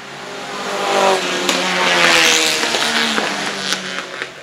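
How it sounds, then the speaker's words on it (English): A vintage MG Midget race car in the production under 1.5-litre class roars past at a vintage grand prix, its engine running rough, with an uneven, sputtering note that swells close by and then fades with irregular pops. "the engine is not sounding too great on that car"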